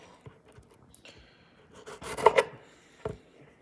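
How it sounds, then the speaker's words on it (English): Thin horizontal slices cut through fresh strawberries with a knife for crepes, giving soft close rubbing and chopping sounds with a denser burst of cuts near the middle and a final single stroke. "So that's how I slice the strawberries"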